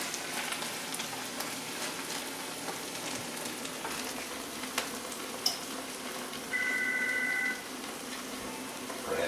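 Honey fungus mushrooms fry in a pan with a continuous soft sizzle and occasional small pops, heard close. A brief electronic beep cuts in partway through.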